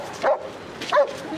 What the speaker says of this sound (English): Sounds like your dog wants a piece of the action.